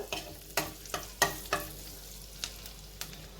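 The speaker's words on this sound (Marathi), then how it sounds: "आणि याच्यात आता घालूया बारीक चिरलेला लसूण हा पण आपल्याला छान परतून घ्यायचा आहे" Finely chopped garlic sautéing in a pan for mustard sauce pasta, a soft background sizzle broken by about nine sharp scrapes and taps of a spoon stirring against the pan, with no talking.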